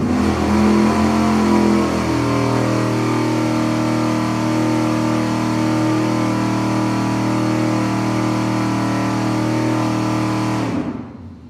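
A V8 car engine with aluminum heads holds a steady 4,700 RPM on a dyno, a loud, even mechanical drone with strong harmonic tones that runs without a break before cutting off abruptly near the end.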